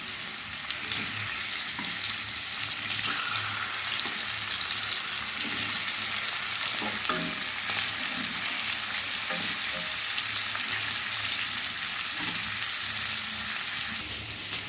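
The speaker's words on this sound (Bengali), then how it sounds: "এবার আমি মাছগুলো ভেজে নেব। অনেকগুলো মাছ আমি দুবারে ভেজে নেব।" Shol fish (snakehead) frying in oil in a pan gives a steady, dense sizzle that stays loud and even throughout, with faint stirring scrapes and no voices.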